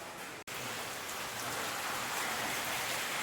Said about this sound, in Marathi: आज पाऊस पण पडतो बाहेर खूप